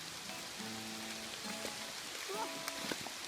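Steady rain falling on water near a small waterfall in a forest during a backpacking trip, a continuous close hiss with patter, faint voices and tonal sounds drifting in underneath.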